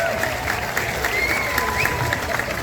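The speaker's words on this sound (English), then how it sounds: "Let's have another round of applause for our hurdle assistant." An audience at a county fair pig race claps steadily, a dense wash of applause filling the whole moment without letting up.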